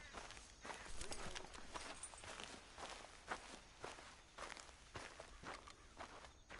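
Horse hooves clip-clop at a steady walking pace in Red Dead Redemption 2, close and fairly clear, with faint background ambience and no speech over the hoofbeats.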